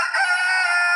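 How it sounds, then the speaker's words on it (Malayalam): A rooster-crow ringtone from a wireless doorbell sounds as one short, loud, electronic cock-a-doodle-doo, close and alone. "കോഴി കൂവുന്ന സൗണ്ട്."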